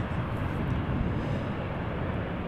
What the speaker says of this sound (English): That looks like a Delta A330 taking off from runway 24 in the background.